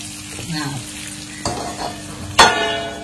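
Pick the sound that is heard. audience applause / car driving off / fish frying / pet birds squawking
fish frying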